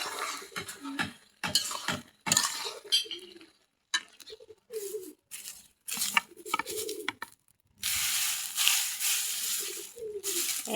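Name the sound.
curry being stirred and sautéed in a pan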